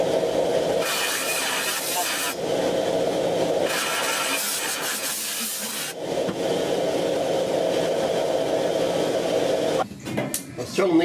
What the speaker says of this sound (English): let me come back and grind it down a little bit, make it fit better